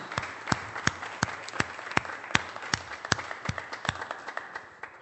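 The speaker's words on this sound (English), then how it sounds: "may I please have a round of applause for the officers of the Hazleton Police Department?" A small crowd at a city council meeting gives a round of applause for police officers, sparse distinct claps scattered unevenly and fading slightly toward the end in a quiet room.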